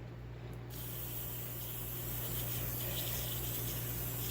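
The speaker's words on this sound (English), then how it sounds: "I spray some carburetor and choke cleaner in there" Steady close hiss of carburetor and choke cleaner sprayed from an aerosol can into a two-stroke oil-injected scooter carburetor, a continuous spray that holds even for several seconds with no talking.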